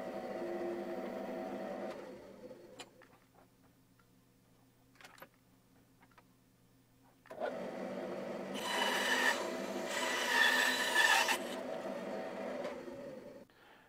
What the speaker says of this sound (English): Now I cut the sled piece with the number 4 lengthwise with the bent saw